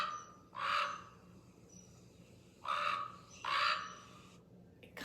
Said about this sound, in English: This is the distinct sound of a raven